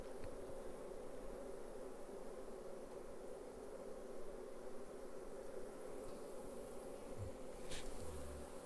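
Honey bees buzzing around hive boxes during honey harvesting, a dense, continuous swarm drone close by that holds a steady, even level throughout with no talking.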